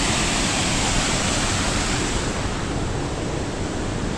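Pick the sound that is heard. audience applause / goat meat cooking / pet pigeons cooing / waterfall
waterfall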